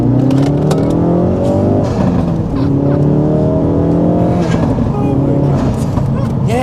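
A Ford Focus RS Mk3 Edition with all-wheel drive accelerates hard in second gear, its engine note climbing steadily in pitch, loud and close from inside the car, dipping once as revs settle before rising again.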